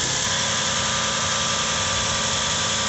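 A 2007 Toyota Highlander Hybrid engine runs at a steady idle after an oil change, a constant close rumble with no pauses or voices.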